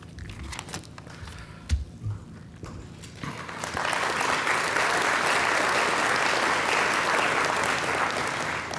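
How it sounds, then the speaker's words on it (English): A banquet audience at an annual community awards dinner bursts into loud, sustained applause that swells after a quieter opening with a few scattered claps and holds steady to the end. "I'm afraid I'm getting clapped off like an Oscar ceremony"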